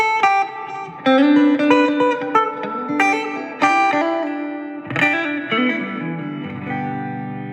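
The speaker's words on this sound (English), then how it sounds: "So spring reverb is what like the blackface Fenders would have built in, a tube-driven spring reverb." An electric guitar rings out chords through the tube-style spring reverb of a Fender Champion 20 amp, each strum trailing into a wet, drippy surf-rock tail, loud and alone.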